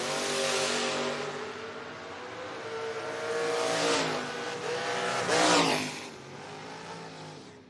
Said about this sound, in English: Brandon, the 83 Camaro, 617 dial in